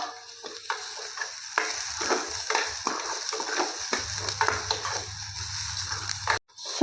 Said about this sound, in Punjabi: ਪਿਆਜ਼ ਨੂੰ ਹਲਕਾ ਜਿਹਾ ਭੁੰਨ ਲਿਆ ਤੇ ਥੋੜੀ ਜਿਹੀ ਬਰੀਕ ਕੱਟੀ ਹੋਈ ਸ਼ਿਮਲਾ ਮਿਰਚ